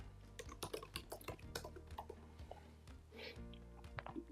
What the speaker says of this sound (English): So I'm just going to type a password here.